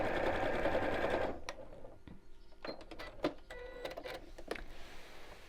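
A sewing machine top-stitches fabric for a book cushion pocket, a fast mechanical whir for just over a second, then a quieter stretch of clicks and short ticks as the machine slows and stops, all close and fairly faint.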